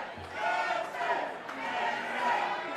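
A wrestling crowd at an AAW heavyweight championship match chants in loud, swelling waves that rise and fall across the arena, with a commentator's voice mixed in.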